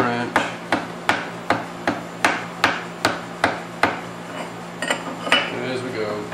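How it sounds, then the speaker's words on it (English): Light tapping with a small hammer on a wrench while tramming a CNC mini-mill, a steady series of about fifteen sharp metallic ticks, close and evenly spaced, with a faint hum underneath. "tap on the wrench."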